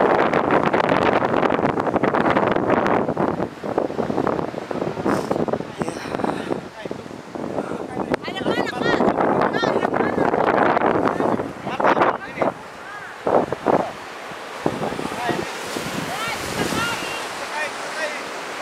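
Sea surf rolling onto Liman beach on Semau island, a steady loud wash of breaking waves mixed with gusty wind buffeting the microphone, while people talk over it.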